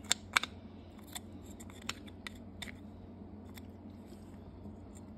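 Small snips or cutters cutting plastic while a throttle position sensor from an MR2 Spyder SMT is taken apart, a series of sharp close clicks and crunches, a few loud, spread over a quiet background.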